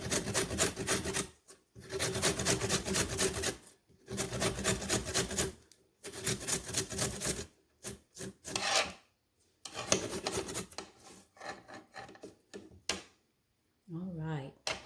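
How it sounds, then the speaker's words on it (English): Fresh ginger rasped against a grater in a kitchen while making oxtail stew, in several rhythmic bursts of steady scraping separated by short pauses, fairly close and loud, with a little speech near the end. "We're gonna go ahead and slice up the grated ginger."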